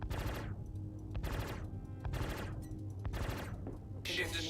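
Size 5 fixed cannons on a spaceship in Star Citizen fire four sustained bursts, each roughly a second long and separated by short gaps. The bursts sit under a steady low engine hum and are fairly quiet.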